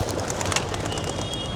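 Pigeons are released outdoors and fly off, a loud burst of flapping wings and fluttering close up that settles into a steady rush, with faint cooing.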